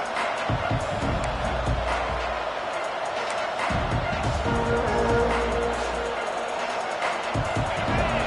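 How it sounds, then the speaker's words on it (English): A packed stadium crowd at a college football game roars steadily as the Louisville Cardinals offense takes the field, a dense, continuous wash of noise with faint commentary mixed underneath. "This crowd trying to make life miserable for this offense."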